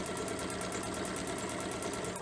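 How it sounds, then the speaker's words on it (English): A sewing machine runs steadily while stitching a fabric tote bag, a close, even, fast rhythmic clatter and whir that holds constant throughout without any talking. "When I turn my corner here, I'm going to stitch, about 1/3 of the way up."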